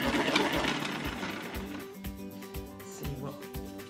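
A spin art machine whirs round with its lid on, giving a loud, whizzing motor rush that settles into a rapid, regular rhythmic thumping as it spins.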